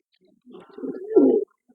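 A single close pigeon coo rises into a fuller, throaty note and stops abruptly, heard alone against silence.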